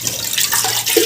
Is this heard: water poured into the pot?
yes